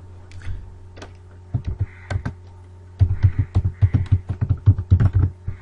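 Keys clatter on a computer keyboard while an email signature is typed in the Windows 10 Mail app, with a few scattered presses and then a quick, steady burst of typing, close and clear.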